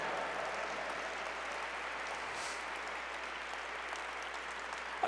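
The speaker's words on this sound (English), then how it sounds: "So please, let's give Daniel Holmesy a great big round of applause." A crowd at a neighborhood awards event applauds in a steady, even wash of clapping that holds from start to finish, fairly distant and without speech.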